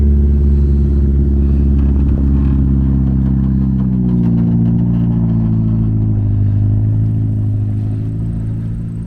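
A BMW E36 Compact with a broken rear strut and sagging rear end drives off, its engine loud and close, a steady droning note that shifts pitch as it accelerates.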